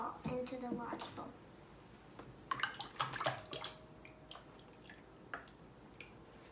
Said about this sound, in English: we're gonna pour our whipping cream into the bowl, into the large bowl.